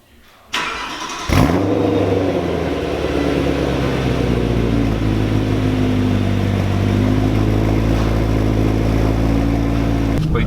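A BMW E90 M3 cranks and fires up, then settles into a loud, steady idle with a deep humming drone close by on a street drive, continuing for several seconds.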